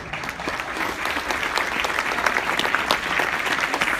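Conference audience applauding steadily, a dense, even wash of many clapping hands at moderate loudness that continues without a break.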